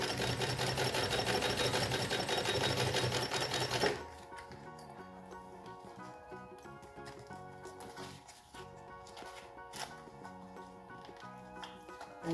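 A sewing machine runs in a loud, dense burst as it stitches piping onto a fabric lunch bag, then gives way to quieter, irregular clicks and taps.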